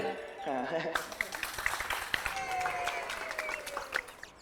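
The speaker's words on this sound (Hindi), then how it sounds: "ताली बजाइए" Applause from a crowd of neighborhood spectators gathered before a local kabaddi match, a steady dense patter of many hands with voices and other sounds mixed in over several seconds.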